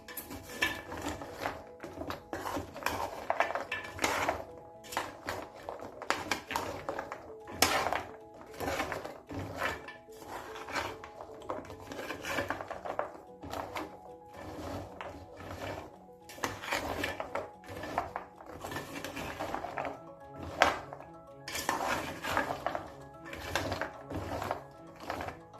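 Fried gavvalu, crisp sweet shells, are stirred in a pan. The rattling and scraping run steadily throughout with dense, repeated clatter. No one speaks.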